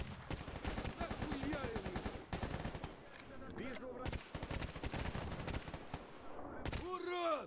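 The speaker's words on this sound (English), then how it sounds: "I just accidentally shot a Freedom member because I thought he was monolith" Rapid bursts of automatic gunfire crack and echo through a S.T.A.L.K.E.R. GAMMA firefight, dense volleys with brief gaps, while someone talks over the shooting.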